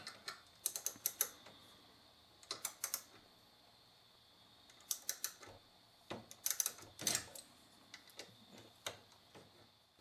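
Brake caliper bolts come out of a Dodge Neon during a front wheel bearing replacement, heard as faint, close clusters of quick ratchet clicks in short bursts separated by quiet pauses.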